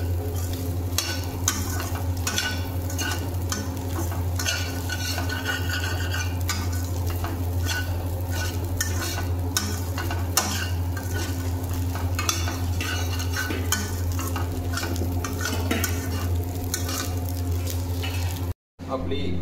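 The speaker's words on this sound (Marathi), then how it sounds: "बुर्जी आपण इथे भाजून घ्यायची आहे" Egg bhurji sizzles and fries steadily in a pan while being stirred, with a constant close crackle and frequent scraping and clinking of the spoon against the metal.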